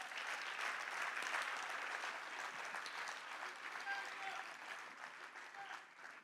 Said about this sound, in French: Est-ce qu'on peut applaudir pour les 3?